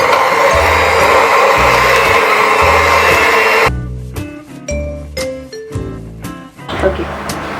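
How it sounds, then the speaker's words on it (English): Electric beater whirring through flour and milk for marble cookie dough, a loud steady motor whine for several seconds, then choppy, stop-start bursts with clinking against the bowl. "And now we are going to beat under the beater."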